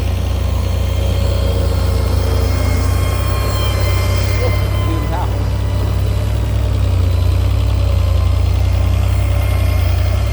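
A water pump engine running beside an excavator clearing water hyacinth, a loud, steady low throb and hum that carries on unbroken throughout with no pauses, with a faint voice in the background.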